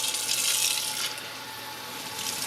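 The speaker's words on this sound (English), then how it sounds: "Once it's cooked, dump the water out, clean the tripe several times," Water running and splashing as cooked tripe is drained and rinsed, a steady close hiss of flowing water that swells briefly and then eases, with no talking.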